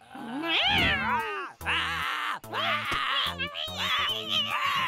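A cartoon cat meows and yowls in several drawn-out, wavering cries, loud and close, with short pauses between them.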